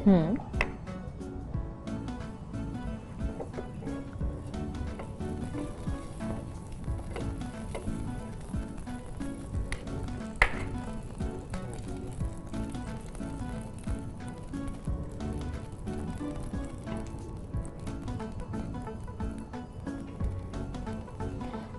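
Bread toasting in butter on a pan over a medium flame for Mumbai masala toast, a steady close sizzle with faint crackles running throughout while people talk over it.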